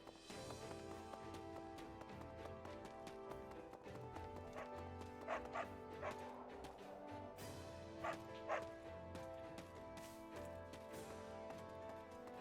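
Dog barking in Fire Emblem Warriors: Three Hopes, a few sharp barks set into a busy layer of game music and clip-clopping hoofbeats, fairly quiet overall.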